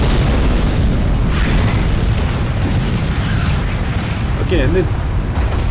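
A submarine destroying an underwater city in Call of Cthulhu: Dark Corners of the Earth brings a constant, loud, rumbling roar of explosions, with someone saying a few words over it.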